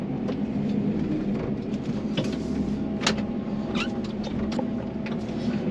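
A tractor engine rumbles steadily throughout at a constant level, with occasional faint clicks and rattles over it.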